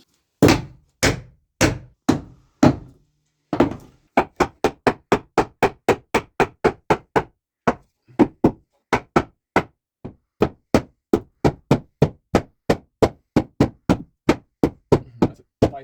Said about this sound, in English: The little hammer, please.